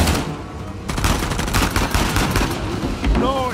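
Gunfire from Uncharted: The Lost Legacy, a dense run of sharp shots crackling over a busy in-game battle soundscape, fairly loud and continuous for a few seconds before easing off.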